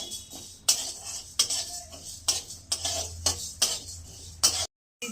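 Dal fried and stirred in a pan with mustard seeds for sambar: a spoon or spatula clinks and scrapes against the pan in a string of sharp, evenly spaced knocks, close and loud over a low background hiss.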